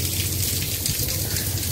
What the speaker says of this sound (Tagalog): Hirap pag ganito na ulan na ulan.